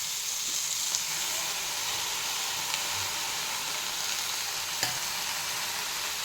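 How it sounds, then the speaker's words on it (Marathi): Washed red amaranth leaves are stirred in a hot pan, producing a steady close hiss of frying with a few faint clicks of a spoon against the pan. "यामध्ये मी आता धुवून ठेवलेली ही भाजी घालत आहे।"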